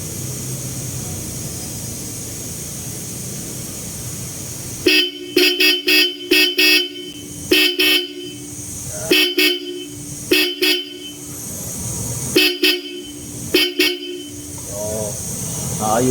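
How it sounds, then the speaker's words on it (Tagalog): A Bosch car horn wired through a relay honks in repeated bursts of short, loud blasts separated by brief pauses, close by, following a stretch of low background noise. "Sige, busina."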